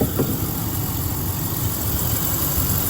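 A high-mileage 2003 GMC Yukon plow truck with 750,000 miles on its original motor idles steadily, a close, even rumble with a faint high whine above it.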